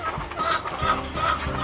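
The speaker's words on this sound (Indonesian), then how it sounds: "Kali ini saya akan membahas tentang ayam yang ngorok," A laying hen with a snoring respiratory illness clucks close by in short, repeated, rasping calls over a brief moment.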